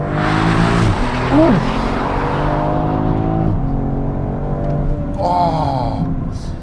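An Alpina B3 Touring in sport plus mode accelerates hard, its engine rising loud and close through several gears with a brief drop at each shift, while a man exhales once at the start.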